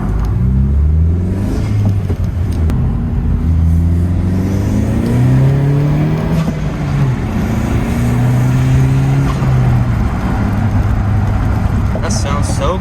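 A 10th gen Honda Civic fitted with a Cobra cold air intake revs up and down several times in rising, falling sweeps, with people talking over the engine throughout.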